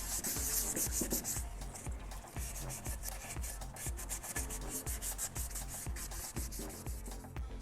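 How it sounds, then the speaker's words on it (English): Sandpaper rubs back and forth in quick, steady strokes on a Ducati XDiavel motorcycle part, a gritty, slightly wet scraping from water-lubricated sanding that stays close and continuous. "that water keeps the sandpaper clean, and also it's better to see what's going on while sanding."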